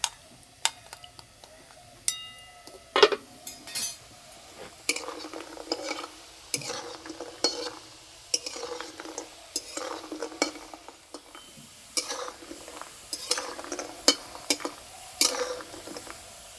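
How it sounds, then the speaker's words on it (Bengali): Mini gulab jamun sweets frying in a pan are stirred and turned, giving repeated sharp metal scrapes and clinks against the pan over a low sizzle, close by and irregularly spaced, with no voices. "চাপাটা খুলে মিষ্টিগুলো একটু নেড়ে দেবো এইভাবে।"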